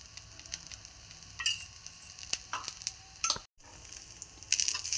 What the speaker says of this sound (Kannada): ಈಗ ಮ್ಯಾಲೆ ಸ್ವಲ್ಪ ಸುತ್ತಾರ್ಲ ಇದಕ್ಕೆ ಎಣ್ಣೆ ಹಾಕ್ಕೊಳತ್ತೀನಿ ನೋಡ್ರಿ.